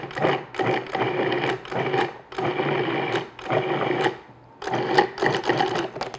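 A food processor pulses butter into flour for coarse pie-crust crumbs: a series of short, loud motor whirs with slight pauses between them and two longer breaks, nothing else audible.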